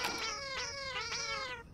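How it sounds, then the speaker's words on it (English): A cat lets out a long, loud drawn-out meow that rises into a wavering howl, holding steady for nearly two seconds with no talking over it. "Not with the kitty meow howling."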